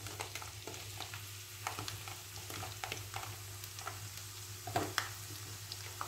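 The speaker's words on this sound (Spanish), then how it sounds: "Mientras tanto, iré pochando los ajos." Garlic and onion sautéing in a pan over medium heat, a soft steady sizzle with light crackles and occasional stirring clicks, faint and close with no talking.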